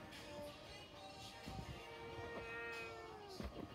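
A cat gives a few faint, drawn-out meows at a distance, with quiet background noise around them.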